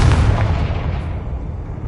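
A Confringo fire spell bursting in the Hogwarts video game, a heavy, loud, low boom that hits at once and rolls away into a fading rumble.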